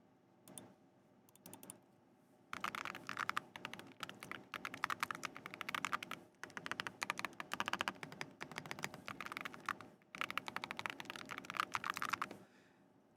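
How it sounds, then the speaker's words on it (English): Typing on a computer keyboard fitted with ceramic keycaps: dense, steady bursts of crisp clicky keystrokes, close and fairly loud, with a few brief pauses between runs and no talking. "This is my favorite keyboard, by the way."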